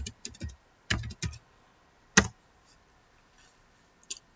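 Typing on a computer keyboard: a few short bursts of clicking keys, then one sharper tap and a stray keystroke near the end, with quiet gaps between, close-miked and without speech.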